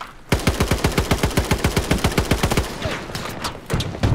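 GEW rifle in the shooter game Battlefield 2042 firing a fast, even string of about twenty loud shots, each sharp crack followed by ringing echo, then a few scattered final shots.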